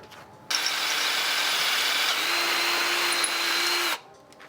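A power drill with a 9.5 mm bit bores out a bolt hole, whining steadily at close range for about three and a half seconds before stopping, with no talk.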